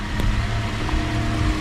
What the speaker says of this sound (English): She's gonna go on her first test drive.